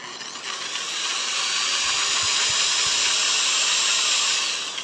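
An INGCO impact drill bores a hole, giving a loud, sustained high-pitched whir with a grinding edge that holds steady for several seconds before easing off at the end.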